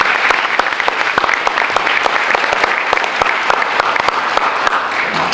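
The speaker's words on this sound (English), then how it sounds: "A big round of applause for our staff members." A school audience at a National Honor Society induction ceremony claps for staff members, loud and close, with sharp individual claps standing out from a dense, continuous round of applause.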